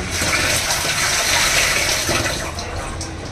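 Running water gushes steadily from a tap as mushrooms are washed, a close, continuous splashing and rushing with no talking.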